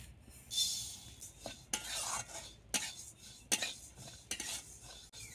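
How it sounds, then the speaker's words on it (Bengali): Moong dal is dry-roasted in a hot kadai, and a utensil scrapes and rattles the lentils in short, uneven bursts. Quiet gaps fall between the strokes, and there is no talk. "এবার মুগ ডালগুলো হালকা ভেজে নেব"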